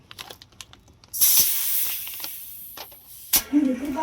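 Air hisses sharply in short bursts as a new tyre tube is inflated to sixty at a village puncture repair shop, with faint background noise and brief clicks between the bursts.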